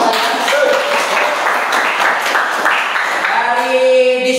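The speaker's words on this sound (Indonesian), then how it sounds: "Tadi boleh tepuk tangan lagi buat kalian" Students in a classroom applaud, a dense, steady wash of clapping from a group that keeps going at even strength for a few seconds, with a few tonal voice sounds rising near the end.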